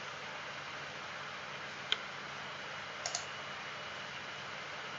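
Computer mouse clicks, a single sharp click followed about a second later by a quick double click, close and faint over a steady background hiss with no talking.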